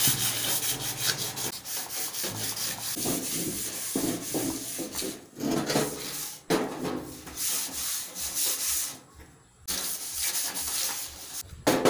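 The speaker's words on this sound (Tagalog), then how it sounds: "Nililiha ko muna yan kasi para maganda ang kapit ng pintura." Sandpaper rubs over a kerosene stove before it is painted, steady close scraping strokes with brief pauses in between.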